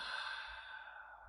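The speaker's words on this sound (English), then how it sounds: "Breathe out." A single deep, slow exhale during box breathing, a soft airy sigh close to the microphone that fades out gently.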